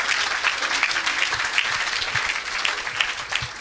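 Congregation applauding for Jesus at a church service, sustained dense clapping from a crowd that stays steady throughout, with no one talking over it.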